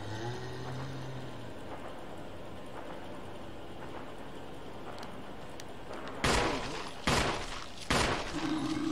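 Three loud, sharp gunshots in Resident Evil, spaced about a second apart after a stretch of quiet background game ambience.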